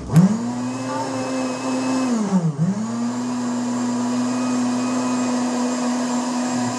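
An electric blender or mixer beating a mixture runs as a loud, steady motor whine. It sags briefly in pitch as the load shifts, then holds constant, close and uninterrupted.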